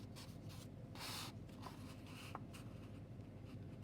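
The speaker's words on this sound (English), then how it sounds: "So we're going to fold our A4 over," A sheet of A4 paper being folded over for a card, soft close rustling and a brief sliding swish with a couple of faint creases, quiet against a low room hum.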